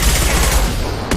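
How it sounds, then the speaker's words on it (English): A booming impact shot fired in the Mass Effect 2 video game, a dense, loud rumbling blast that fills the brief moment and ends with a sharp crack. "Firing an impact shot!"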